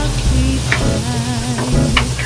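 Food searing in a hot pan to build a crust, a steady dense sizzle filling the whole moment with faint clinks and stirring noises on top, no talking.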